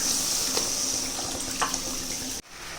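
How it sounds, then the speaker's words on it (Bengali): Water pours into frying spice paste in a pan for a prawn curry, a close, steady rush and hiss of liquid hitting hot oil that cuts off abruptly near the end. "এখন আমি জল দিয়ে দেবো।"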